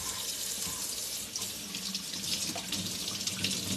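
Steady, hissing rush of water running from a tap, continuous and fairly close for the whole stretch with no talking.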